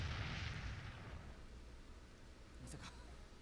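An explosion from the video game KonoSuba: Fantastic Days booms loudly at the start and then fades into a long rumbling decay, with a brief sharp crackle near the end.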